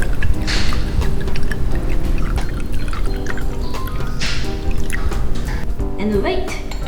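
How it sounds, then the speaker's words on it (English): Hot water is poured from a kettle or pot to brew a small cup of Japanese green tea, a close, continuous splashing trickle heard under a steady speaking voice. "and pour the water"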